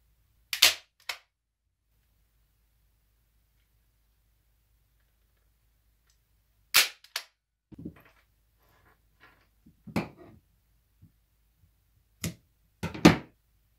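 A staple gun fires sharp, isolated clacks while a transition knot on a mini bullwhip is stapled in place, with long silent gaps and light handling noise between the snaps.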